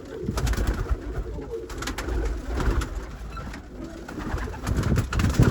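Pigeons, kept among roller and cumulet breeds, coo softly in a loft amid rustling and general background noise, with low repeated calls throughout.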